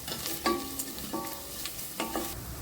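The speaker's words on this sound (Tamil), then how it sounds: "இது கூட மிளகாத்தூளும் கரம் மசாலாவையும் சேர்த்துக்கிறோம்." Onions, cashews, chili powder and garam masala sauté in hot oil for a vegetable biryani, a steady sizzle broken by several clinks and scrapes of a spoon stirring against the pan.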